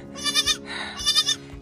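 Newborn twin goat kids and their mother bleating close by in a farm setting, two loud bursts of wavering bleats with a softer cry between them.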